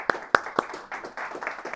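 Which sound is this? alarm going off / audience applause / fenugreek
audience applause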